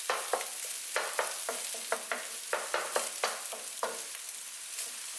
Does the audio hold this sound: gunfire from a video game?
no